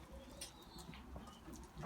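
Pet pigeons coo faintly in short, soft, low murmurs against quiet background noise.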